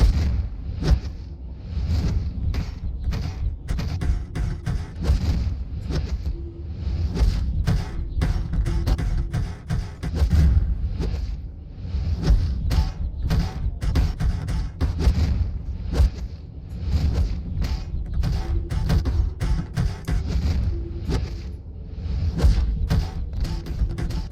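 Mortar weapon attacks in DC Universe Online, a steady barrage of repeated thumps, booms and rumbling impacts with whooshing bursts, dense and loud throughout with no speech.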